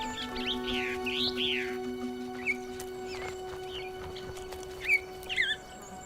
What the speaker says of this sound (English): The Tenerife blue chaffinch.